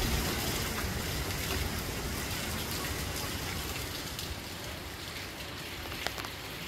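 Rainwater running down a slope during a rainstorm in Santa Ana, a dense, steady rushing hiss that stays level throughout, with one brief sharp tap near the end.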